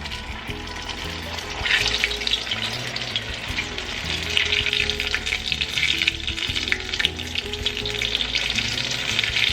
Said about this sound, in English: Now that our oil is nice and hot, go in with your egg roll.